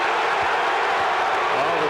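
A basketball arena crowd in a 2000–2001 Memphis versus Tennessee game roars and jeers at Coach Calipari, a dense, loud, sustained wash of voices and clapping, with a commentator speaking over it.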